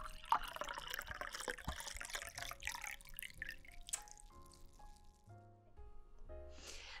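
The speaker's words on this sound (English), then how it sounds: "Don't be cheap with the pour." Wine gurgling as it is poured into a glass, close up, the splashing stream giving way to a few ringing, settling tones.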